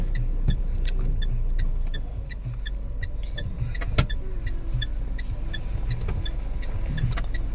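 A Mitsubishi Montero with a blinking check engine light drives on Sungay road near Tagaytay, a steady low engine and road rumble heard from inside the cabin, with faint clicks and light rattles over it.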